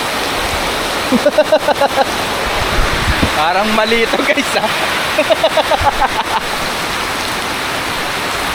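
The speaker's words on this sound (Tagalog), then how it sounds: "Lakas ng ulan, no?" Heavy rain pours in a steady roar while fishing in Manila, a voice speaking Filipino intermittently over it, with bursts of chatter and a few sharp taps.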